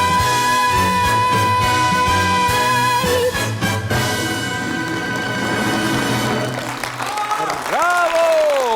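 An audience applauds and cheers as a lively live song performance ends. The clapping builds under the closing music, and a voice rings out over it.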